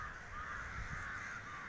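Crows cawing at sunset in Vizag, their harsh calls blending into a sustained, fairly faint chorus over steady outdoor background noise.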